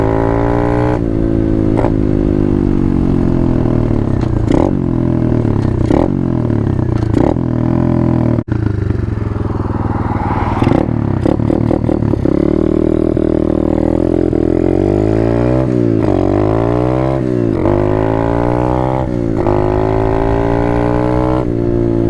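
An Apollo 125 RFZ Chinese dirt bike is ridden hard, its small single-cylinder engine loud and close, revving up and dropping through repeated gear changes with a buzzing, rising and falling drone throughout.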